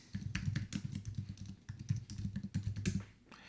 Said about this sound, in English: So really quick typing it in